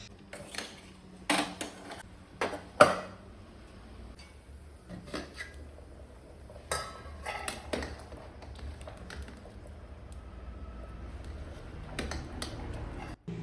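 Curry with lentils, potato and spices being stirred in a cooking pot during lunch preparation, irregular utensil taps and scrapes against the pot, a few sharp clanks early, then quieter stirring.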